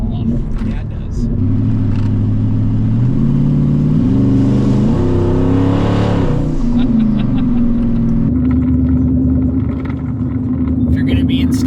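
A twin-turbo 5.0 Ford F150 accelerates hard in highway traffic, its engine rising through several gear steps to a loud peak, then dropping back to a steady cruising drone. The sound is close and continuous.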